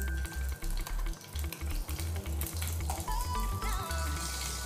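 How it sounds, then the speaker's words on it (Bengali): Butter melting in a hot frying pan on the stove, giving a close, steady sizzle with fluttering low bubbling and a few brief metallic clinks. "এখন আমি প্যানের মধ্যে দিয়ে দিচ্ছি কিছুটা বাটার।"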